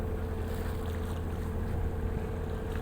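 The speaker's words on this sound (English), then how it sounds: "I guess that's an ocean-going tug." Ocean-going tug pushing a fully laden ultra-large crude carrier at sea, heard as a steady, constant low engine and water rumble with wind noise, no voices.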